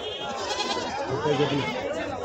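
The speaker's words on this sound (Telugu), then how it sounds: "మీకు మేకపోతులు అయితే ఉంటాయి అనమాట" Goats bleat at a busy weekly livestock market in Galiveedu, their wavering calls mixed into steady crowd chatter and nearby talk.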